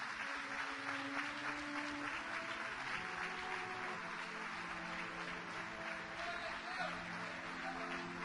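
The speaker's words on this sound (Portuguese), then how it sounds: "Aplauda mais uma vez o nome do Senhor" A church congregation applauds in praise of the Lord, a steady, even wash of clapping that sounds distant and fairly quiet, with faint voices underneath.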